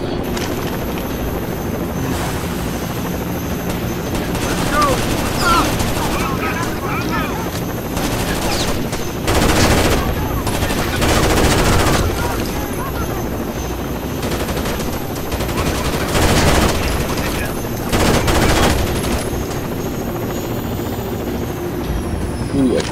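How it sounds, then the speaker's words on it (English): Enemy gunfire in Rainbow Six Vegas 2, with scattered shots and bursts over a constant droning helicopter rotor, some louder volleys standing out, with talk mixed in. "They're just shooting at me."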